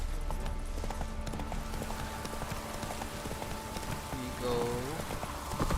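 Horse Roach's hooves clip-clop steadily in The Witcher 3, a game sound under a man's speech and background music, with a brief rising tonal flourish near the end.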